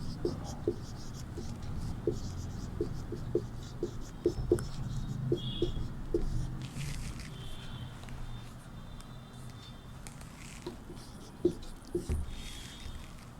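Chalk or marker taps and strokes on a board during a Hindi class, a string of light ticks and scratches at an irregular pace, close and fairly quiet, with a teacher speaking between them.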